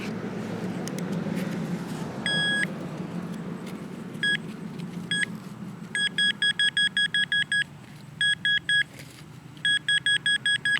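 Metal detector sounding over a buried target in rain-soaked ground, giving sharp high electronic beeps in short bursts and rapid runs over a low outdoor rumble, with no talk.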